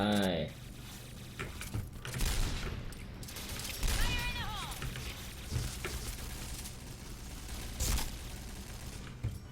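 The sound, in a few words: Kriss XMAS 2015 gun firing in a video game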